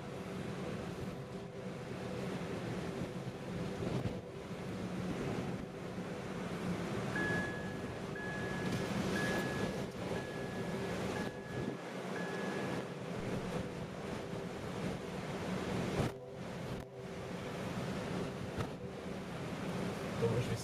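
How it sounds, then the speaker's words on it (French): Storm wind gusts roar over the big beach at Royan with surf rumbling beneath, a steady, blustery wash of noise buffeting the microphone, with a faint voice now and then. "la grande plage de Royan, qui subit de plein fouet les rafales de ce monstre venteux."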